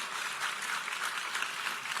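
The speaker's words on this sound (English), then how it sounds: "See, all of y'all are clapping." Audience clapping in a lecture hall during a talk, a dense, even patter of many hands held steady for a couple of seconds, slightly distant.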